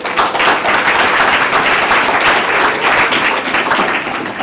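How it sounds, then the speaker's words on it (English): Sustained audience applause at a primary and junior schools peace ambassadors event, a dense, even wash of many hands clapping at steady volume throughout, with no talk over it. "A round of applause once more."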